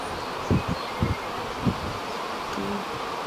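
Low buzzing of honeybees around a hive with brood frames, steady and close, with a few soft thumps and rustles breaking through.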